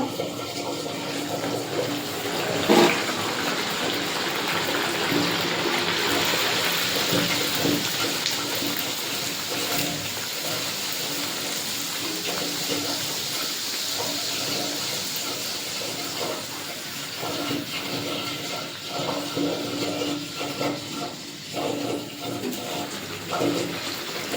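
Kachori, a Bengali stuffed breakfast pastry, fries in a pan of hot oil, giving a steady, close bubbling sizzle with scattered spatters and no talk.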